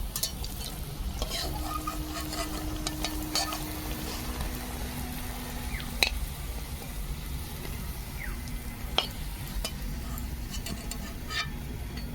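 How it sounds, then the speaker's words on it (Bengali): Fish pieces sizzle steadily in hot oil, with occasional scrapes and clinks of a utensil stirring in the pan. "বাকি পিসগুলো এইভাবে ভেজে নেব"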